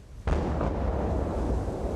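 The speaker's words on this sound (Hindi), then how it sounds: "इसके बाद किम जोंग इल को तोपों की सलामी भी दी गई" Artillery cannons fire a gun salute at Kim Jong Il's state funeral in North Korea: one sudden heavy boom, then a long dense rumbling roar that fills the rest of the moment, loud and broad.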